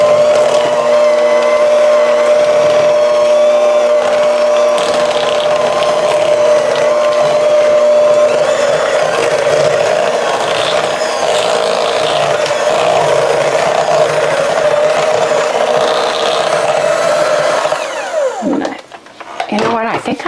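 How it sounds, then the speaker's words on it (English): An electric mixer beats butter into grain-free, nut-free strawberry cake batter, a loud, steady whirring drone with a constant pitch that runs for about eighteen seconds, then sputters and rattles briefly as it slows near the end, with a voice talking over it. "Now I'm just going to beat this together with the butter. Get a little bit of air into it."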